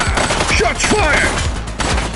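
A loud volley of rapid shots in the police game The Precinct, with crisp cracks packed close together while short shouted voices break in over the shooting.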